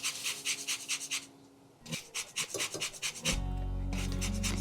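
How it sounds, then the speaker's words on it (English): Lemon and orange peel rasped on a zester into a bowl of sugar, with repeated quick scraping strokes in two bursts, a brief pause between, then a steady low hum at the end. "And to the sugar, we are going to zest in our 2 lemons and our orange."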